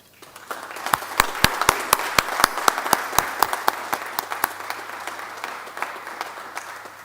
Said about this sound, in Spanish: para quienes les pido un cálido aplauso